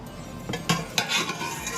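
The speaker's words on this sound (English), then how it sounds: "I'm gonna give this a stir" A spoon stirs a pot of Jamaican stew peas cooking with oxtail and beef, with soft scraping and a few light clinks against the pot over a gentle bubbling simmer.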